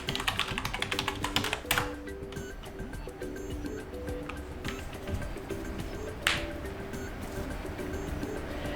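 Fast, soft clicking of keys on a Dell Latitude 5420 laptop keyboard as an email and password are typed, in quick close bursts with short pauses, heard alone.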